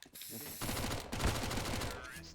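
A decoy grenade in a video game imitating gunfire, a rapid rattling burst of automatic shots that keeps going for about two seconds at moderate, slightly distant volume.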